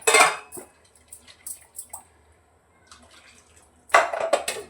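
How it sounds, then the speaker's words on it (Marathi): Water splashes and swirls inside a mixer grinder jar, about half a glass of cold water, in two bursts at the start and end, with faint clinks and drips between. "हे धुवून घेते मिक्सरचं भांडं"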